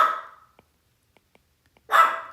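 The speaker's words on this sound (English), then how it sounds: "Sorry, dog's reacting to some fireworks right now." A dog reacting to fireworks lets out two loud, close barks, one at the start and one near the end, with near silence and faint ticks between.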